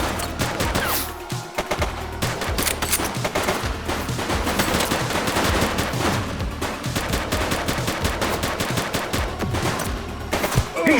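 A police shootout in The Precinct erupts into dense, rapid gunfire, continuous overlapping shots and automatic bursts for the whole stretch, loud and close with no voices.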